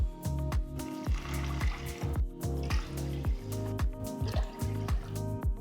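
Water pours and splashes into a pressure cooker in irregular glugging bursts, close up, with no talking.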